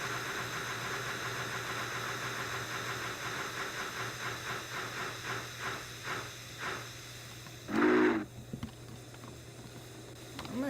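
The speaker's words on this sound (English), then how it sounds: "Oh, wheel slip, wheel slip, wheel slip," A Big Boy steam locomotive in a voxel trains video game slips its wheels, with rapid chuffs that slow and fade over a steady low hum, then a loud burst of steam hiss and scattered clanks.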